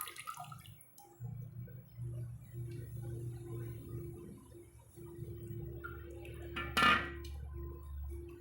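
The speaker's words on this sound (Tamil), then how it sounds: "பாருங்க, இது போல் நல்லா புழிஞ்சோம்னா தண்ணியெல்லாம் இதிலேயே வடிஞ்சிருங்க." Water drains from rinsed agathi greens squeezed by hand in a kitchen: faint, steady trickling and dripping with a brief louder splash near the end, and no talk.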